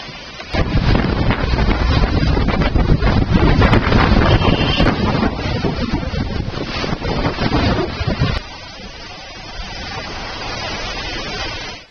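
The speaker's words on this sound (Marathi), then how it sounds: "वादळी वाऱ्यासह इथं पावसाने हजेरी लावली" Stormy wind in the Dhaula Kuan area of Delhi, during heavy rain that toppled trees, roars and buffets the microphone in loud continuous gusts, then eases to a softer rush near the end.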